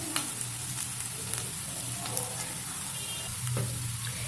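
Taro (arbi) chunks roasting in a pan, giving a soft, steady sizzle with faint scraping stirs and occasional light clinks, quiet and close.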